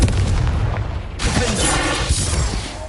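A Confringo spell blast in Hogwarts Legacy, a loud fiery burst with a heavy low rumble followed by crackling debris, close and continuous for about three seconds.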